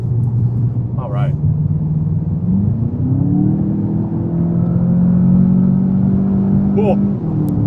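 A VW Jetta GLI engine hums under load from inside the cabin, its pitch rising smoothly through acceleration and dropping at a shift before climbing again, close and steady, with a couple of brief voice sounds.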